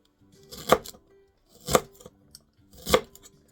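A knife cuts fennel into thin slices on a board: three separate, crisp crunching strokes, close and clear, about one second apart, with quiet gaps between them and no talking.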